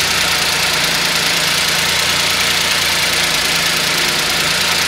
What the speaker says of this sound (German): der läuft wie Sahne, also wie ein 3-Zylinder halt laufen muss